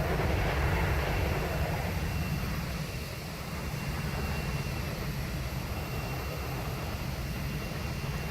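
Boeing 737-300 jet engines heard from outside the aircraft in a flight simulator game: a loud, steady broadband roar with deep rumble that holds constant throughout.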